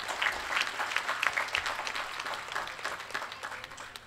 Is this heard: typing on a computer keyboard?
no